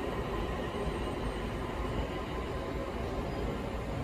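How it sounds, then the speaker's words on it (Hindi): A train rolls steadily into a station, giving off a continuous broadband rumble and rail noise that holds at an even level throughout, with no voices. "लो जी ट्रेन आ गई जी अपनी"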